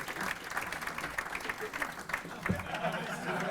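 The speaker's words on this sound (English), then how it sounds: "Big round of applause for our guests, please." An audience at a crypto debate event applauds the panel guests, a fairly faint, steady wash of clapping with a voice speaking over it.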